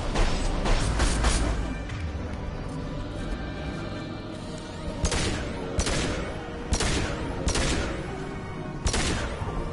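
Pistol gunfire in Mass Effect 2 rings out as a loud opening volley, then after a lull a series of sharp, evenly spaced shots follows, mixed with combat mechanisms and impacts.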